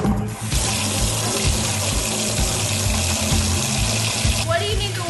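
Water runs steadily from a tap or hose into a container to be mixed with plaster and sand, a loud continuous splashing rush that holds nearly unbroken throughout, with a brief dip near the start.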